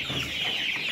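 Layer hens in a winter poultry shed cluck and chatter together, a steady close flock sound without speech.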